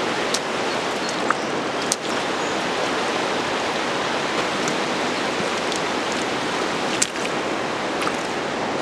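Water rushes steadily through a gold sluice box fitted with a gold hog mat, a loud continuous broadband wash outdoors with a few faint ticks and knocks, no voices.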